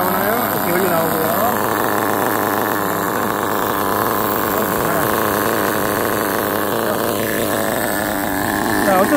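An HSP 1/10 scale nitro RC buggy engine running close by, a steady buzzing drone with a wavering pitch that holds for the whole stretch, with no speech over it.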